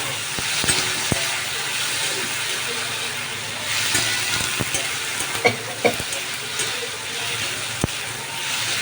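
Ground spice paste with cinnamon sizzles and spits in a hot pan for chanar kopta curry, a steady frying hiss broken by scattered pops and a few sharp spatula clicks against the pan.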